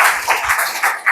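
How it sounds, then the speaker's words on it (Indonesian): Classroom applause for a presenting group during a history lesson: a short, close burst of students clapping in loose, uneven claps, loud and brief, with no voices over it. "Ya, tepuk tangan untuk kelompok yang di depan."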